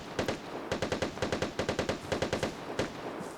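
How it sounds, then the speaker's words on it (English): Gunfire in the video game Vigor: several rapid bursts of automatic shots, each a string of sharp cracks, rattling out in quick clusters with short gaps between, fairly loud and clear with no talking. "we heard those gunshots, right?"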